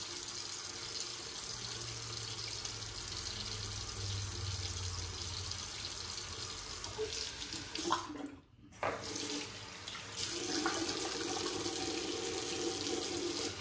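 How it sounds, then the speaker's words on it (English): A bathroom tap runs steadily into a sink to rinse a CK-6 shaving razor. The flow stops briefly partway through, then resumes and keeps gushing to the end. "Let's rinse a bit."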